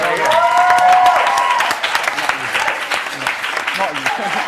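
Audience at an album release party for a band cheers and claps, loud and close, with high excited shouts early and the clapping continuing after the cheers.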